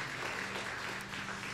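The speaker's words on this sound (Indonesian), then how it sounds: "Tepuk tangan yang meriah untuk kemuliaan nama Tuhan." A church congregation claps in a brief, dense burst of applause that stays steady and fills the space without any voices standing out.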